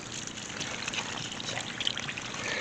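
A garden hose sprays water under some pressure onto aphid-covered plants, a steady close hiss and trickle of water running without a break.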